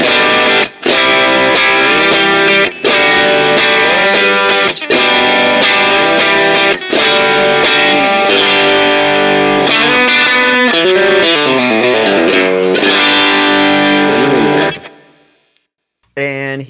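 An electric guitar runs through a compressor pedal into an amp pushed just into slight breakup, played as sustained, lightly distorted chords and lines that ring loud and close before cutting off abruptly near the end.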